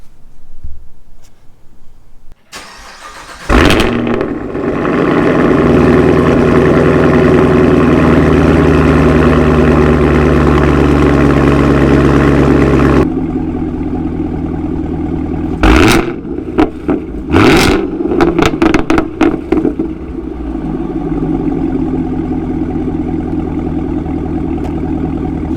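A 2023 Chevrolet Camaro ZL1 with a new aftermarket exhaust starts up and holds a loud, deep roaring rev for several seconds, then settles to a rumbling idle broken by a few sharp throttle blips, close by.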